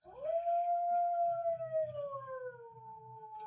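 A dog howls in one long sustained, slowly falling tone lasting several seconds, fairly clear and moderately close, over a faint low rumbling background.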